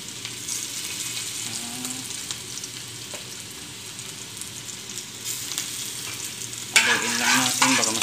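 Garlic sizzles steadily in hot oil in a pan while bamboo shoot adobo is cooked, with occasional stirring scrapes, the frying growing louder and brighter near the end.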